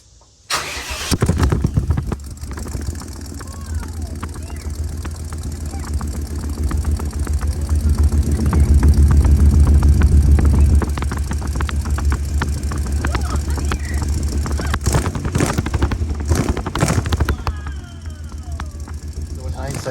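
A car engine cranks and catches, then runs with a loud, rumbling exhaust that swells in the middle before settling, with brief sharper noises near the end.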